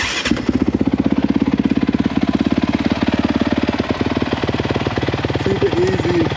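An older carbureted, liquid-cooled Honda CRF450X supermoto fires up on its electric starter and settles into a loud, rapid, chattering idle thumping evenly close by.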